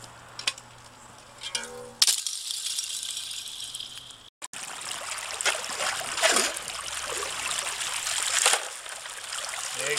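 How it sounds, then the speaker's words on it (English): Water runs and trickles through an old river sluice board set up outdoors on a frosty morning, a steady close splashing rush with rattling bursts after a brief quieter, knockier stretch at the start. "Yeah, you got the old river sluice working today."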